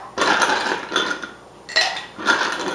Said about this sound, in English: And then I'm going to add ice to my cocktail glass.